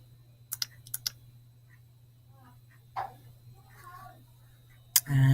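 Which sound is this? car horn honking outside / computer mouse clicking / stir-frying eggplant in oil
computer mouse clicking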